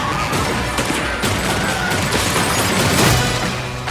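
A burst of gunfire from an action film trailer, dense overlapping shots and crashes forming a loud, continuous fusillade over a busy soundtrack, with no speech.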